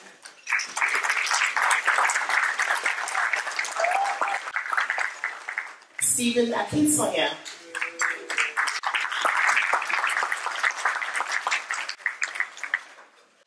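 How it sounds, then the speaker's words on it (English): Audience applause fills a gala dinner and awards evening, broad steady clapping that runs nearly throughout, broken briefly midway by a spoken name over the room. "please give yourself a round of applause"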